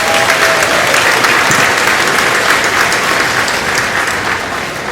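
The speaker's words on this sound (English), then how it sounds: "would you give them a rousing round of applause?" A loud, dense round of audience applause at the Mississippi Valley State University 71st commencement ceremony, steady throughout and tapering slightly toward the end.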